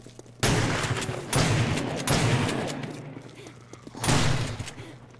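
Shotgun blasts in the video game 7 Days to Die, four loud booming shots spaced about a second apart, each with a decaying tail.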